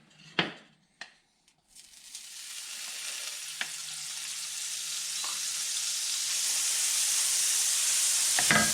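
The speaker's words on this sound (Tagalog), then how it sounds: "Igigisa natin. So, ang gagamitin natin ay butter." Butter sizzles and fries steadily in a pan for pork ribs, the hiss building and growing louder after a few knocks of utensils against the pan at the start.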